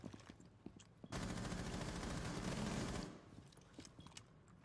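Gunfire in the shooter Rainbow Six Siege: a sustained rapid automatic burst of about two seconds, loud and dense, standing out from quieter game ambience and scattered distant clicks.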